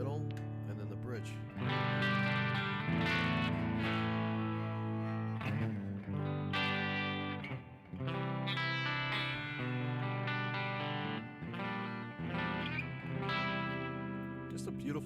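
A new electric guitar on its bridge pickup plays chords through an amp with Hall of Fame reverb, loud and ringing with a washy tail between strums.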